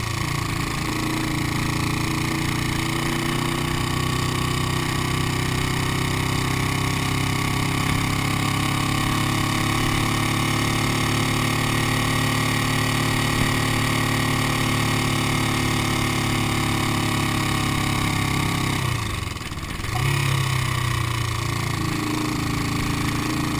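A restored 1972 Honda CL350 Scrambler motorcycle engine runs steadily for a long stretch, a continuous close mechanical drone with a brief dip and rise near the end.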